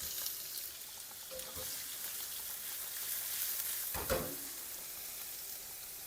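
Vegetables drop into hot olive oil in a pan and sizzle with a soft, continuous crackle, with a couple of brief louder spatters from stirring and no talking.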